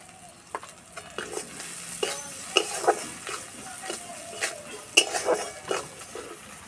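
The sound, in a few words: onions frying in a pan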